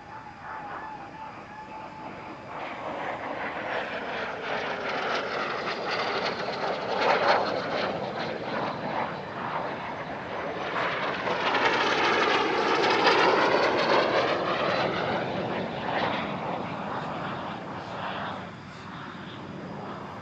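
Display aircraft at the Air Legend airshow in Paris-Villaroche roar overhead through aerobatic manoeuvres. The engine drone swells and shifts in pitch as they sweep past, loud and continuous throughout.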